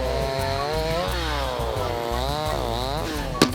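A chainsaw cuts thick wooden discs from a fallen tree trunk in the woods. The engine drones steadily and loudly, its pitch dipping and rising as the chain bites, with a sharp knock near the end.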